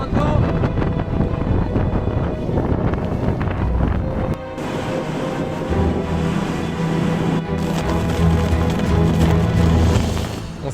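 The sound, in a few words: strong wind during a storm in Gaspésie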